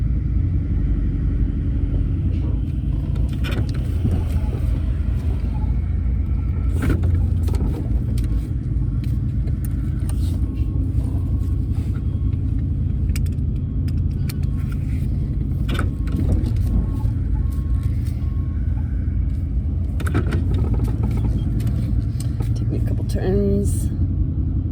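A camper van engine rumbles steadily as the van pulls out of a parking spot, a loud low drone with occasional revs and clunks, while a person talks over it.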